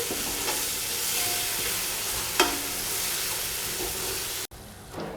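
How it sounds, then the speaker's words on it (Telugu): Masala fries in a pan during pulao cooking, giving a loud, steady close-up sizzle with occasional stirring scrapes that cuts out abruptly near the end. "నెక్స్ట్ మసాలా అంతా కూడా కొంచెం ఫ్రై చేసుకున్నామండి."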